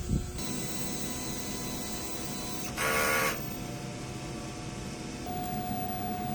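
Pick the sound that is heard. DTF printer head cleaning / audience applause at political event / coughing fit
DTF printer head cleaning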